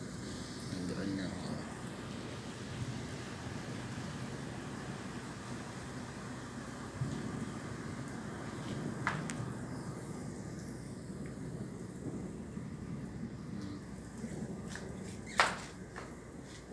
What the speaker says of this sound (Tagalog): ulan, malakas ang ulan.